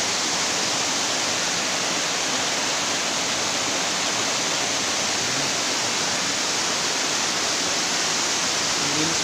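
The Tanay, Rizal waterfall pours with a loud, constant broadband roar of falling water, heard steadily and close up throughout, with no talking.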